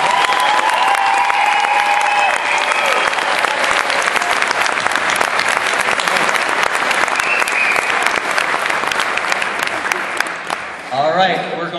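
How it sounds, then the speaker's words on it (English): Loud, sustained applause from a school concert audience honoring a guest artist and the Warren Central Honors Band, dense clapping filling nearly twelve seconds before tapering off at the end. "Let's have a big round of applause here for Quincy"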